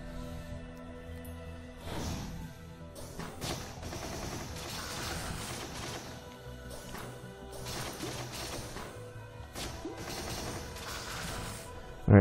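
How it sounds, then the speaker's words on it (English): Rapid gunfire from a shooter in the video game Risk of Rain, a dense run of overlapping shots and crashing impacts that keeps up steadily throughout, loud and busy with no talk over it. "I'm just pumping bullets into it."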